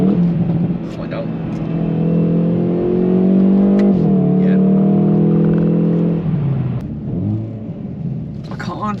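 Hyundai i30N with a DCT gearbox driving down a badly rough road, engine droning and rising in pitch with a strong low rumble, then easing off, with voices talking over it.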